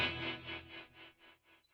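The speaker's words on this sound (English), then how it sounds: "Tremolo behind the spring reverb, like on the old Fender's amps" Electric guitar tone from a Kemper Profiler with tremolo placed behind spring reverb, a sustained chord pulsing in regular, evenly spaced throbs that fade steadily over a couple of seconds, heard alone.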